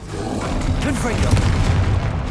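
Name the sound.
Confringo spell explosion, video game Hogwarts Legacy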